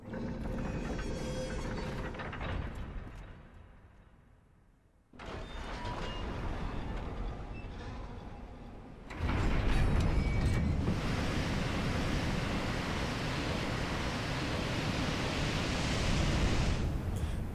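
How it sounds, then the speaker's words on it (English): Water draining out of the flooded ruins of New Londo in Dark Souls, a steady rushing, surf-like roar that drops away briefly, then returns louder and fuller, sustained with no talking. "now we get to drain the water from this place"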